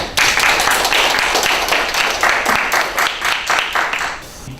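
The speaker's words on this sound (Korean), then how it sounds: "박수 한번 보내주십시오" Seminar attendees clap steadily for a professor's presentation at a Gwangju English Broadcasting tenth-anniversary event, a brisk, moderately loud round of applause lasting several seconds before it begins to taper.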